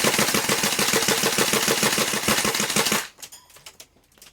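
A Tokyo Marui MWS airsoft rifle running on green gas fires a loud, rapid burst of close shots for about three seconds, followed by a few quieter mechanical clacks.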